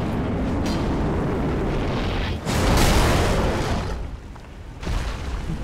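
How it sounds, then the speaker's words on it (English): A big explosion in the video game Dark Souls 3 bursts with a heavy boom and a roaring rush of debris, swelling then fading before a second, smaller surge near the end. "That's a big ass explosion"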